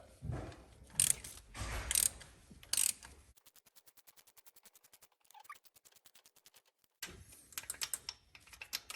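Ratcheting wrench with a 5/8 socket loosening the rocker arms on an 88-98 OBS Chevy 1500 during valve seal work, heard as a few heavy clunks followed by a long run of quick, even ratchet clicks, then more clicking near the end.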